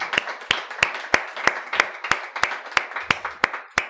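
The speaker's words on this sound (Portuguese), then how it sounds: "eu peço desde já uma grande salva de palmas para todas estas pessoas" An audience claps for the event helpers in an even, steady rhythm, with about a dozen sharp claps in time and no talk.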